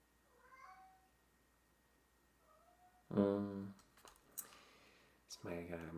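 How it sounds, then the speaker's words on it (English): A house cat meows to be let outside, with a couple of faint distant mews at first, then two loud, close, drawn-out meows spaced a couple of seconds apart. "My cat keeps complaining she wants to go outside"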